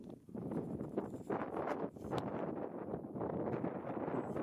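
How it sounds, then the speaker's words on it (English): Gusty wind on the Anglesey coast buffets the microphone close up in a steady rushing roar with uneven swells, loud and unbroken, with no voices. "It's a bit of a breezy wind, patchy sun"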